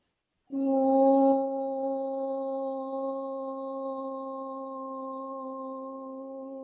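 A deep, sustained Om chanted by many voices together, one long steady drone with rich overtones after a brief breathy onset, fading slightly toward the end.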